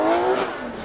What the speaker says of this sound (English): You can hear him kind of blip the throttle, stay in it.